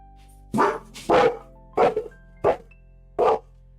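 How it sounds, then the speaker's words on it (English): A dog barking indoors, five sharp close barks spaced roughly half a second apart over a faint background hum. "Sorry, that was my dog."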